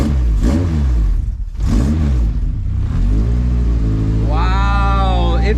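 A junkyard-rebuilt Honda K24A2 engine swapped into a Honda CRX revs hard twice on first start, loud and close, then settles into a steady idle before rising again toward the end.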